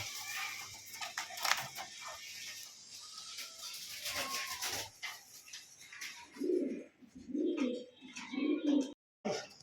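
Fancy pigeons of Pakistani bloodline coo in a sale loft: chirps and rustling come first, then several close, throaty, rolling coos repeat in a steady rhythm.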